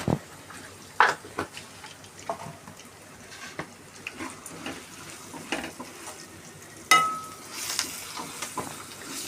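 Rice is stirred in a frying pan with turmeric for gongura pulihora, giving a soft sizzle under irregular scraping and clinks of a spoon against the pan, close by with no talking.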